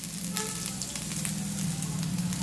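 Curry leaves and semolina-coated pomfret frying in oil in a pan, a dense close sizzle with sharp spitting crackles and a low steady hum underneath, continuous and unbroken, with no speech.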